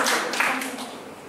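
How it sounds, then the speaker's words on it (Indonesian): A church congregation breaks into brief, dense applause, with hand claps fading slightly over about a second. "Mari beri tepuk tangan buat Tuhan Yesus."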